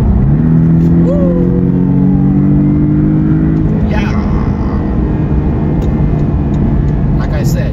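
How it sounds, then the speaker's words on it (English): A car accelerates fast, its engine note climbing steadily in loud, close revs for several seconds. The engine then settles into a rushing drone, with a voice briefly whooping over it. "Let's go really fast with the car."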